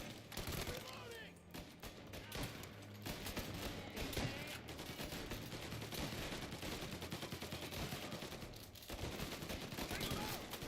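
Sustained gunfire from a Mafia shooter on Xbox, dense bursts and rapid automatic volleys rattling continuously at close range, with shouted voices mixed in throughout.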